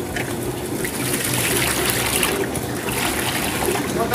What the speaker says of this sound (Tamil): நமக்கு வேணுங்கிற அவ்வளோ தண்ணி சேர்த்திக்கலாம்